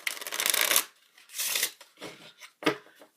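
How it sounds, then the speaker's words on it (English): Several bursts of rapid card riffling, a long crisp shuffle followed by shorter riffles and a final quick snap, close up with no talking. "have this one face down, this one face up, and riffle shuffle them together."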